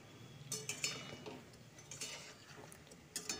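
A utensil gently stirs frying mung-masoor dal puli pitha in a pan over medium heat, giving soft scattered clinks and scrapes against the quiet sizzle, faint and close.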